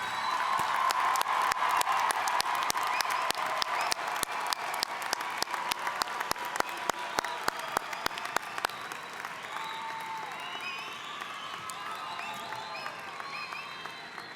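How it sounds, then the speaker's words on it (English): A crowd at a University of Houston-Clear Lake commencement applauds the graduates steadily, dense clapping that fades slightly toward the end, with a few faint voices and cheers mixed in. "please join me in another round of applause for all of our graduates"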